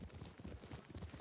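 Horse hooves clopping during a ride in the video game Ghost of Tsushima, a fast rhythmic beat of soft thuds over a quiet background.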